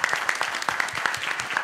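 Audience applause for a county sheriff at a conference session, a brief burst of many hands clapping at a steady, dense pace.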